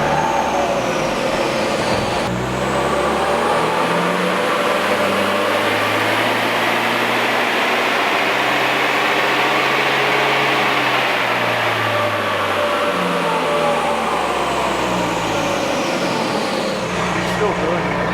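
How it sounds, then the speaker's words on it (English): A Surf engine revs up on a dyno, its loud droning pitch climbing over a few seconds, holding high, then falling away and cutting out. The roar is close and steady, with people talking faintly underneath. "It just revved a little further before it cut out."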